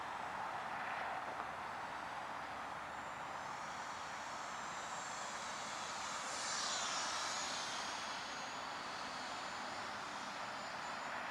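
An E-flite Aeroscout model airplane with a 50mm electric ducted fan flies overhead, giving a steady high-pitched whine that swells briefly as it passes closer, then eases off.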